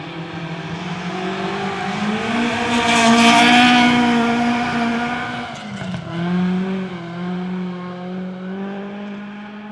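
A Ford Escort rally car passes on the Mt Grey forest stage at Ashley Forest, its engine howling loudly as it approaches, swelling to a peak, then dropping in pitch and revving hard as it pulls away.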